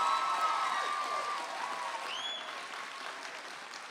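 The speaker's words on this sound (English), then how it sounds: "maybe I'll take a second to give a round of applause to the class of 2025" Applause from a graduation crowd saluting the class of 2025 at the Albany Leadership Charter School for Girls ceremony, a dense steady patter that fades a little toward the end, with a faint high whistle-like sweep partway through.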